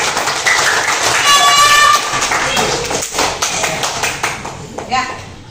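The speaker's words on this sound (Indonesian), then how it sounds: "tepuk tangan buat Mas Amri" Classroom applause from Indonesian schoolchildren during a biology lesson on the respiratory system, a burst of close clapping that fades into scattered claps over lively children's voices.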